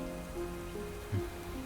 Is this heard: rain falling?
yes